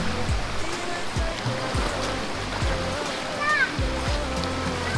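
River water at Vybz River in St. Ann, Jamaica, splashes and churns steadily as a person dips into it, with rushing water throughout and people talking over it.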